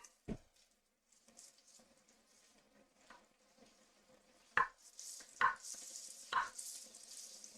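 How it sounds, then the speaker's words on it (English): Knife chopping carrots on a cutting board, several sharp, well-spaced thuds close by, with a faint sizzle of oil in a pan rising softly behind them. "keep cutting your carrots"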